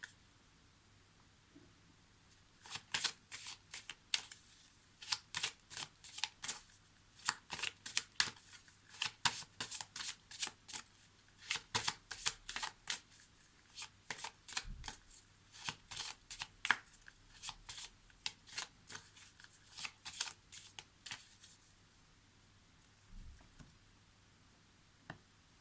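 Lenormand oracle cards shuffled by hand in a long run of quick, crisp riffling slaps and flutters, close and clear, with no talking over them.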